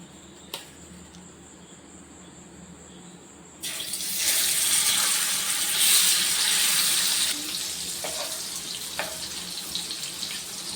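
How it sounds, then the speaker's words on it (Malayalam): Jackfruit seeds dropped into hot coconut oil in a pan set up a steady broadband sizzle that surges midway and then settles, loud and close with no talk over it. "അപ്പൊ നമ്മളെ എണ്ണ ചൂടായിട്ടുണ്ട്. നമുക്ക് ചക്കക്കുരു പാനിലായിട്ട് ഇട്ട് കൊടുക്കാം."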